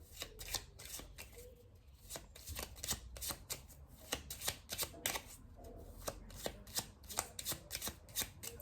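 A deck of oracle cards being shuffled by hand in quick, close, crisp riffling bursts repeating at an uneven rhythm, fairly quiet, with no talking.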